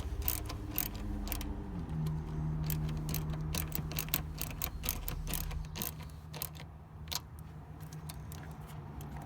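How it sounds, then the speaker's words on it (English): An 8mm ratchet turns a battery terminal bolt on a 2007 Ford Ranger 2.3L, giving faint, irregular clicks and small metallic taps over a low steady hum. "Again, 8mm ratchet."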